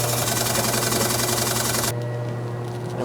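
A gallon can of BASF base coat paint, for painting a 1972 International Scout, is shaken hard nearby, a dense steady rattling churn that cuts off abruptly partway through, leaving a quieter hum.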